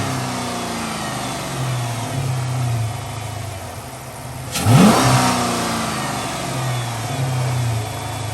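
A 5.7 Hemi Chrysler 300 fitted with a cold air intake idles loudly nearby, then gives one sharp rev that swells and falls back to a steady idle.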